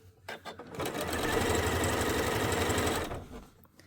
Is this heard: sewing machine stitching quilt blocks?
yes